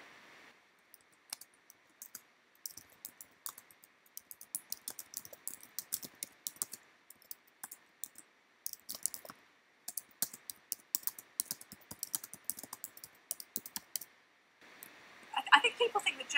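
Typing on a computer keyboard while transcribing, quick irregular runs of close key clicks with short pauses, a steady faint background tone underneath and a busier burst at the end.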